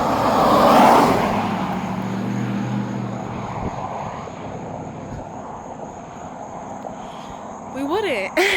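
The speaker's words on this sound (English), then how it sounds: "We would not have all these cars that are passing by me on the street right now." Cars pass along a street in a low, continuous engine rumble that swells early and then fades, with someone talking over the traffic.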